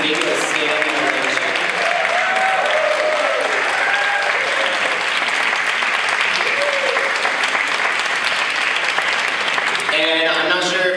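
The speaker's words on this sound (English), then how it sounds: "If you can please stand up so we can give you a standing ovation." Audience at a youth human rights summit in Los Angeles gives a standing ovation, with loud, sustained applause, cheering and shouts throughout and voices rising near the end.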